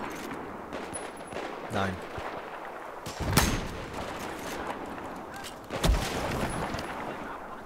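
Battlefield 4 multiplayer gunfire with sharp bursts of shots around the middle and near the end over steady battle noise, while someone speaks briefly.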